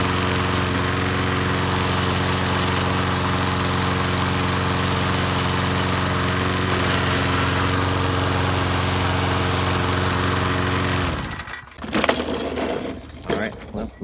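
A Troy-Bilt lawn mower engine runs at a steady, loud, droning idle for about eleven seconds, then cuts out abruptly, leaving scattered clunks and handling noises.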